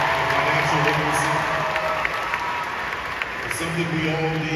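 A large audience at Invest Fest 2022 applauds and cheers, a steady roar of clapping and shouting voices that stays loud throughout, with a speaker's voice mixed into the crowd noise.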